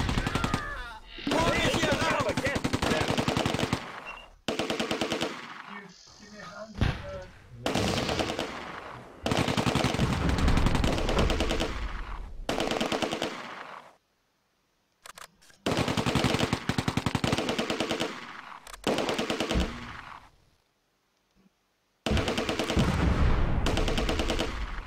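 Vickers machine gun firing in a video game: long sustained bursts of rapid automatic fire, loud and close, repeating several times with brief pauses and short silent gaps between them.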